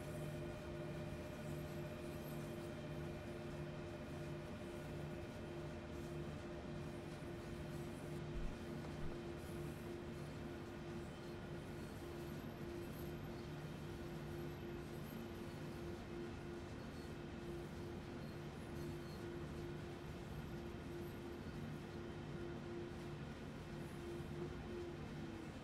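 Hectorrail container train in Train Sim World 3 rolling steadily onto a siding, a continuous rumble of wheels and droning traction hum with steady tonal whine, close and even throughout, with a brief knock midway.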